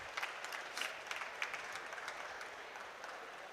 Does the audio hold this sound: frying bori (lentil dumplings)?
no